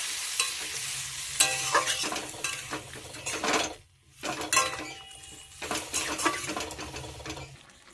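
Spice-rinse water poured into a fish curry pan bubbles and boils, with steady sizzling, repeated stirring scrapes and occasional clinks of a utensil against the pot, briefly quieting midway before resuming.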